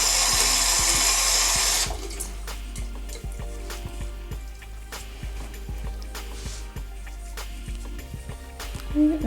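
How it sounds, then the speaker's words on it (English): Makeup brushes being washed with soap under a running tap: a loud, steady rush of water at first, then quieter wet rubbing and squelching with small clicks and knocks as soap is worked through the bristles. "really work that soap through there"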